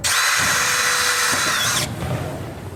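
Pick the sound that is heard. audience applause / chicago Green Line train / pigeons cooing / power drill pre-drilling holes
power drill pre-drilling holes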